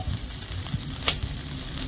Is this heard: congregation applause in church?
no